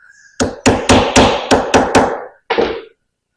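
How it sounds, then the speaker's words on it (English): A hammer strikes a motor body part in a quick run of seven sharp metallic whacks, then a pause and one final blow, loud and close. "So I'm trying to pop it with the hammer to get these to start."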